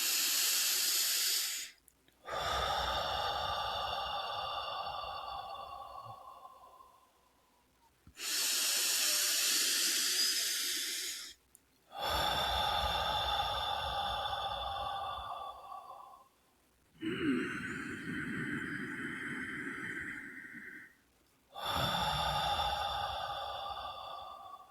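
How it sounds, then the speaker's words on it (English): Slow, deep breaths taken during a guided meditation, three long inhale-exhale cycles with airy, hissing exhalations separated by short pauses, close and clear with no talking. "when you're ready, take 3 deep breaths"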